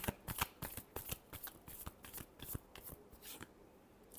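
Tarot cards are shuffled by hand, a close, quiet run of rapid riffling flicks and soft slaps in an uneven rhythm for several seconds.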